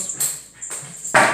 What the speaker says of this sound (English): that's my dog giving me a little headache there